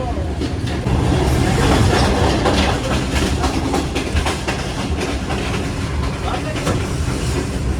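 The Shalimar Express, travelling from Lahore to Karachi, rumbles along the rails in a loud, continuous roar with rhythmic clickety-clack from the wheels, heard from inside the train with voices mixed in.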